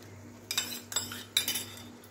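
Spoon scraping and clinking against a pan while whipped milk cream is mixed into cashew masala; three short bursts of metallic clatter separated by pauses, close and moderately loud over a low steady hum.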